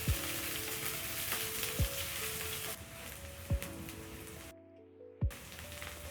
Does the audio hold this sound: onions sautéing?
yes